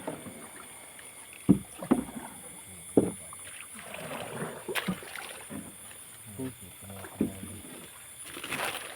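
Oars dip and slosh through water in a steady, unhurried rhythm, with faint outdoor ambience and occasional small splashes.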